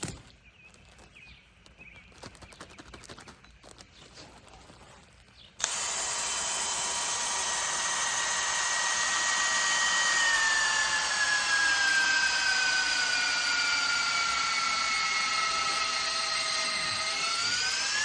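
After a few seconds of quiet rustling, a power drill starts abruptly and whines steadily at a high pitch, its tone slowly dropping as it bores into a hay bale to take a forage sample.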